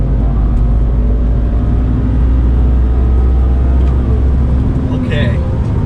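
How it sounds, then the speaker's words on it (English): A BMW engine revs flat out through third gear, a loud continuous drone heard from inside the car with a steady low rumble throughout, ending in a brief higher chirp. "rev it all the way out through third gear"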